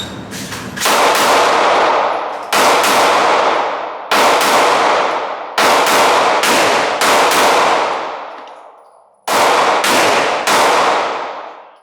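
Loud, sharp gunshots from a .38 revolver, an old police-style wheel gun, at an outdoor shooting range, fired in about six spaced shots with ringing decay, some in quick pairs.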